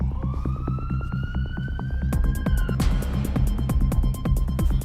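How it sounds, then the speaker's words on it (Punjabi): An ambulance siren at a college wails up in one long rising tone, then switches to a fast, steady pulsing pattern. It is loud and continuous with no speech. "college ambulance"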